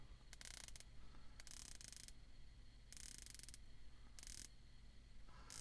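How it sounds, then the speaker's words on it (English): A watch's 120-click ceramic inserted unidirectional bezel turned in short bursts, giving five quick runs of fine ratcheting clicks separated by brief pauses, faint and close with no voices. "You have 120 click ceramic inserted unidirectional bezel."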